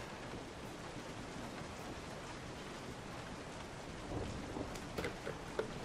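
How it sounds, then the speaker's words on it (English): Steady rain hisses in the Resident Evil 7 game, a continuous moderate wash with a few faint taps and drips rising near the end. "It's raining?"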